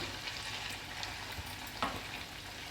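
Pepper vada frying slowly in hot oil, a soft, even bubbling sizzle with faint crackles, fairly quiet and steady.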